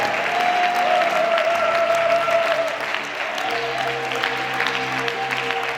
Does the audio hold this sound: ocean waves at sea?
no